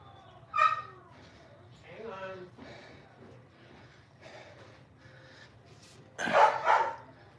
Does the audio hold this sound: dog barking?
yes